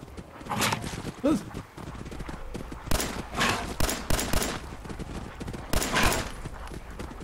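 Gunfire from the video game Fallout 4, several sharp separate shots spaced out with hoof-like clatter and game noise between them, fairly loud, with someone talking over parts of it.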